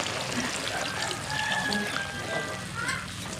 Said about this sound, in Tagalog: Mainit na tubig.